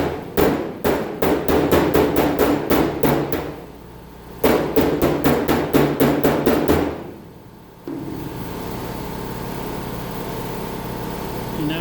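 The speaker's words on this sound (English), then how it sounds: "you're actually hammering along here. You can hear that ping" Hand hammer striking a car body panel backed by a dolly during dent repair, two bursts of rapid, evenly spaced ringing pings, loud and close, with a low engine-like hum continuing underneath after the strikes stop.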